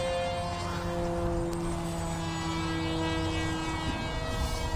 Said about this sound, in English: Guy's flying a remote control airplane.